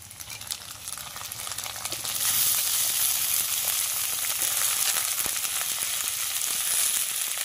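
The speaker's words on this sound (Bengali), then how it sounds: "এবারে কাঁচা টমেটো কুচিটা দিয়ে দেব পেঁয়াজের ওপর" Chopped raw tomato fries over onions in a pan, giving a continuous sizzle that grows louder partway through as the mix is stirred, with scraping strokes and no voices.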